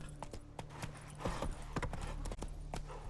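Horse hooves clip-clop in a steady walking rhythm, close and clear, as Roach the mare trots along in The Witcher 3: Wild Hunt, with a faint low hum of ambience underneath.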